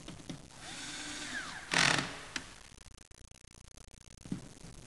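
Power tool driving screws into a Compaq rack slide rail, a short whirring burst followed by a louder, sharper one, with faint clicks and handling noises between, close and otherwise quiet.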